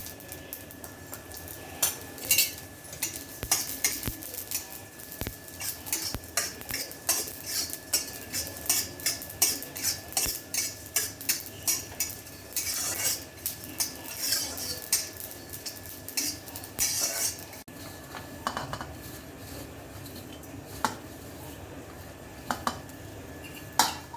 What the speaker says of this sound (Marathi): आपण आता धणे भाजून घेणार आहोत। त्यात पण थोडंसं तेल टाकायचं।